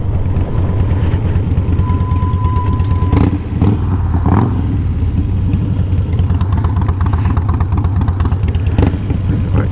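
A Harley-Davidson Fat Boy motorcycle engine held at full throttle, a loud, steady, throbbing rumble that carries unbroken from start to finish with no talking over it.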